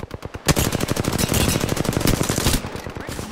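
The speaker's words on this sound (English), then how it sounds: "They're shooting at me" Rapid automatic gunfire from the video game Apex Legends, a sustained burst of quick repeated shots lasting about two seconds, loud and close, after a few scattered single shots.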